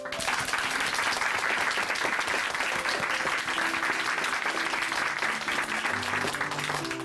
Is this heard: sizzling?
no